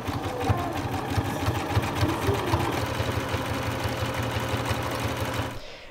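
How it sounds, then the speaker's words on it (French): A sewing machine stitches a zigzag seam along folded bath-towel rectangles, running in a fast steady mechanical chatter close up for several seconds before stopping abruptly. "on va les plier en deux et on va venir faire un point zigzag pour les fermer"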